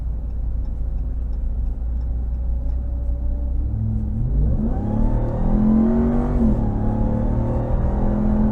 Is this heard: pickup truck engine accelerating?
yes